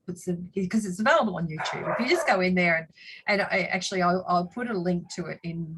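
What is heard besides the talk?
dogs barking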